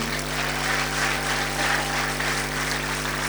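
Congregation applauding for Jesus during a church service, a dense, steady wash of clapping that holds at an even level throughout with no voices over it.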